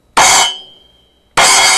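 A small 10-inch splash cymbal is struck twice, close and loud; the first hit flares brightly and dies away within about half a second before the second crash cuts in.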